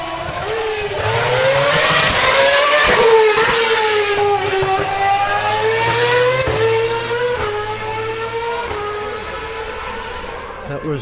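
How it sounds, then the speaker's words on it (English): A Lotus Renault R30 Formula 1 car howls by on track, its shrill engine note climbing and bending through gear changes, loudest early on, then dropping in pitch and fading into the distance with a low background hum. "That was Grosjean in a Lotus Renault R30, last year's car, I think."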